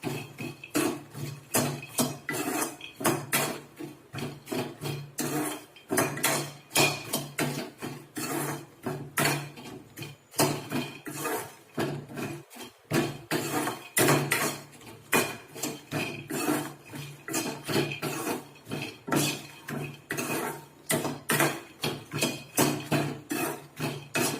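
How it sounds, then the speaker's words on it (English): Makhanas (fox nuts) tossed and fried in a metal pan, giving steady rattling and scraping against the pan that is close, loud and continuous with rhythmic bursts, and no voices over it. "just 1 or 2 minutes we fry these makhanas"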